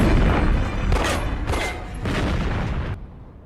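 Police cars blowing up during a shootout in a banker crime film, a heavy, rumbling run of explosive booms with several bursts close together, loud and dense before it tails off abruptly.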